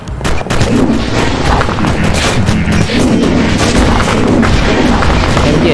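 Rapid submachine gun fire from the Skibidi Toilet war game crackles loudly and without pause, a dense stream of shots layered over booming impacts for nearly six seconds.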